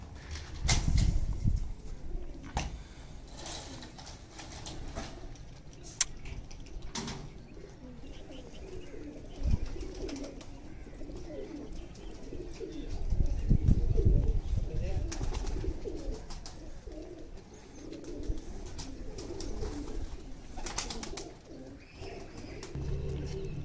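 Breeder pigeons coo softly on a rooftop loft, low murmuring calls and occasional flaps and clatters under people talking nearby.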